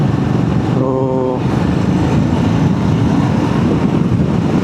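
A BSA Gold Star 650 motorcycle engine hums steadily while riding at about 3000 rpm and 80 km/h, close and constant under heavy wind rush, with a short tonal whine partway through.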